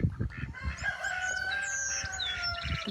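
Chickens scratching at a garden compost pile give close, repeated clucks and soft calls over a steady outdoor background, with a few higher chirps and one drawn-out crow-like note in the middle.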